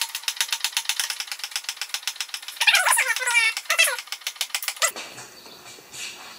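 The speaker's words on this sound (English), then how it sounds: "Now let's jack this guy up so I don't have to bend over and work on it" A jack is pumped to lift a Murray Craftsman riding mower, giving a fast, rhythmic run of close mechanical ratcheting clicks that ends in a brief clatter.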